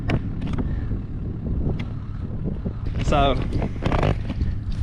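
Wind buffeting the microphone outdoors on a dove hunt, a steady rough rumble that runs throughout and swells near the end, with someone speaking over it.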